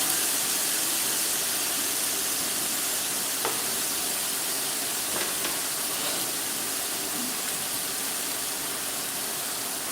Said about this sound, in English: put the pineapple in, let that sizzle off